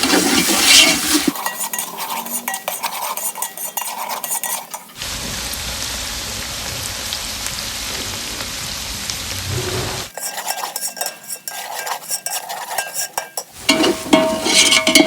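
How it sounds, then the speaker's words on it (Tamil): Garlic roasts in oil in a pot for a vegetable biryani, giving a continuous sizzle with clattering stirring against the pot at the start and end and a smoother, steadier hiss in the middle. "இதை பூண்டு நல்லா எண்ணெயில் ரோஸ்ட் ஆகும்"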